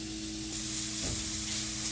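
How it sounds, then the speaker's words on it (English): Italian sausage sizzles and spits steadily in a hot pan, with a brief clatter of stirring midway and a constant crackling hiss throughout. "frying up our sausage here"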